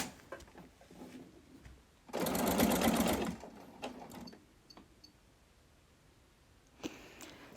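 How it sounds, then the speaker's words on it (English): A sewing machine stitching a bandana pillow runs in one steady mechanical burst of about a second, with quiet handling clicks and rustles before and after. "I chose to do it over the sewing machine."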